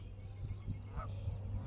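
Wild waterfowl on water in Wisconsin in March give a few short honking, quacking calls at moderate distance over steady low background noise, with no talk.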